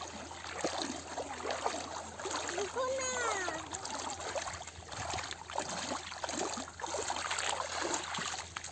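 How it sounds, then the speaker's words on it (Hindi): Water splashes and trickles steadily as a group wades across a river on a farm in Arunachal Pradesh. Several people talk throughout, and a voice rises in pitch near the middle. "हो गया है हम लोगों का नदी पार"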